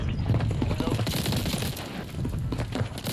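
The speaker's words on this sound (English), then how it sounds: "Why does the bullet sound like that?" Rapid bursts of gunfire from the FFAR assault rifle in the Warzone battle royale game, a dense run of sharp shots crackling without pause across the whole moment, loud and close.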